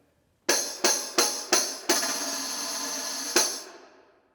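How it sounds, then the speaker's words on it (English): A tambourine with a wooden shell and metal jingles gives four sharp, evenly spaced strikes, then a sustained shimmering jingle roll of about a second and a half, and one last hit whose ringing jingles fade out. It is close and played alone. "This instrument is called a tambourine."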